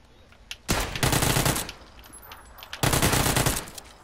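Two loud bursts of rapid automatic gunfire in PUBG (PlayerUnknown's Battlegrounds), each lasting under a second, separated by a short pause, with no talking over them.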